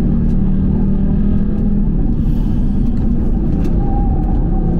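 An Audi TT RS with heavy tuning work is driven hard on a race track, its engine a loud, constant, close-up roar that holds throughout without letting up.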